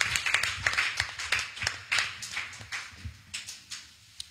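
A church congregation clapping in praise, a lively run of rhythmic handclaps at a steady fast beat, moderately close and fairly quiet, with no voices over it.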